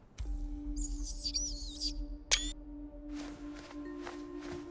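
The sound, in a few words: bird chirping in the video game Dune Awakening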